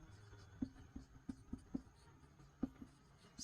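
Handwriting during a Hindi-language class 11 maths lesson on sets, likely chalk or pen on a board, heard as a string of faint, close scratchy taps and strokes at an irregular rhythm with no talk over them.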